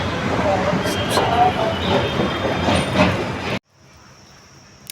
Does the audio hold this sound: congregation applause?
no